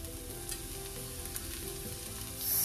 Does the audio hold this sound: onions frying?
yes